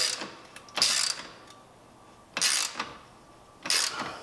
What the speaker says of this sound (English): Okay, I'm gonna go ahead and tighten this one all the way.